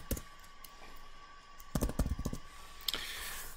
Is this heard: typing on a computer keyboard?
yes